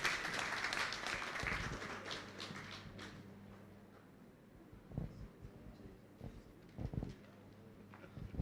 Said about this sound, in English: Can we give the panel another round of applause?